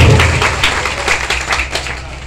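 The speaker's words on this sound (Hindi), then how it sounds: "एक बार बच्चों के लिए जोरदार ताली से सम्मान आपको।" Crowd clapping for children at a stage show in Ghazipur, a dense burst of loud applause fading slightly over a couple of seconds, with no talk over it.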